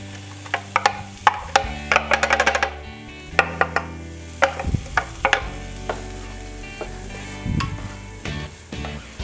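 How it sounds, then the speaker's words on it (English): Onions frying in extra virgin olive oil in a pan over medium-high heat, a steady sizzle under rapid clicking stirs and clacks, with a sustained low hum running throughout. "I throw some extra virgin olive oil in there, and we're gonna get these onions started"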